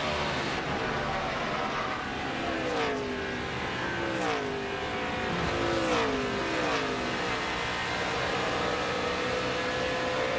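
A NASCAR stock car engine in the 2007 3M Performance 400, onboard, with the pitch dipping and climbing as the throttle comes off and back on, under a steady wash of engine roar.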